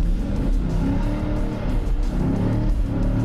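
A car on half-worn tyres accelerates hard with traction control on, its engine roaring loud and steady throughout with tyre noise mixed in, close by and without any talking.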